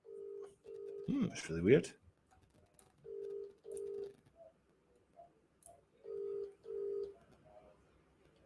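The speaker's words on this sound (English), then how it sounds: "I've just dialed it there just to see if it's working, but it's not popped through" Telephone keypad dialing tones, a series of short evenly spaced beeps in pairs and singles, with a brief burst of talk early on.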